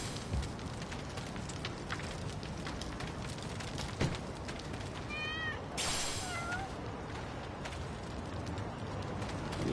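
Brief cat meows sound in the Lost Judgment game, a couple of short mews near the middle set against a constant low ambient hiss with occasional soft knocks, quiet and slightly distant.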